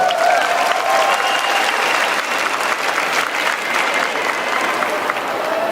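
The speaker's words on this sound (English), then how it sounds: "Let's give them another round of applause." A large pageant audience applauds the contestants at the Miss Universe 2016 preliminary competition, a steady dense roar of clapping and crowd noise filling the hall throughout.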